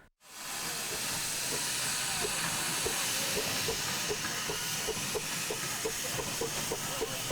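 A loud, continuous hiss of escaping steam from a blue miniature steam locomotive starts abruptly and holds steady, with faint rhythmic chuffing and mechanical clanks beneath.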